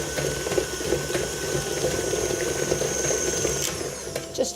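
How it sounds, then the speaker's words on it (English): A cheesecake mixture is beaten with an electric mixer for several seconds, giving a steady mechanical whir with continuous churning and sloshing and no talk. "And then beat that just until it's all incorporated."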